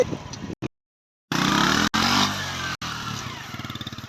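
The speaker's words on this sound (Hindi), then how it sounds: "ये मोटरसाइकिल हम कसी के अंदर चला के जा रहे हैं" A motorcycle rides through water in an irrigation canal, its engine droning loud and close with a rough, pulsing note, cut by a couple of brief dropouts.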